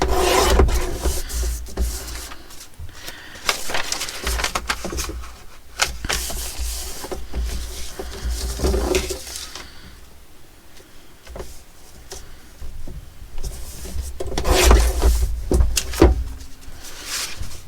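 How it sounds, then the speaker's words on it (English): Dyed paper is trimmed on a work surface, giving long rasping, rubbing scrapes that come in repeated passes with short pauses, close and fairly loud, with no talk. "So let's trim a bit off here."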